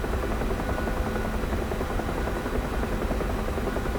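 A UH-1 Huey helicopter in DCS World in fast forward flight, its rotor and engine giving a loud, continuous low thudding drone with a rapid rhythmic beat, close and steady throughout.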